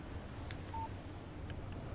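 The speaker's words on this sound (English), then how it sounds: "Text message from Barry." A phone beeps with a short electronic alert tone for an incoming text message in the video game Alan Wake Remastered, brief and fairly faint over a low background hum with a few clicks.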